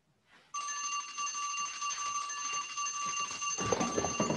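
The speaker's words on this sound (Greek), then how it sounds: "Έχει καμπανάκι αυτό, ε." A bright notification bell rings in one sustained metallic chime right after a soft click, ringing steadily for several seconds before a rustling noise takes over underneath.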